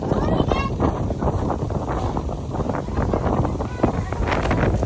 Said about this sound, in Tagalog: Ang lakas ng hangin ako.